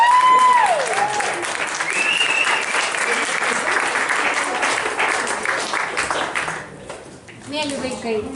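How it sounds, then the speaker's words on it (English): Warm applause breaks out for the parents at a wedding, a crowd clapping steadily and loudly throughout, with a voice speaking over it. "let's give warm applause for the parents"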